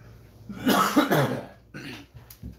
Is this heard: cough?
yes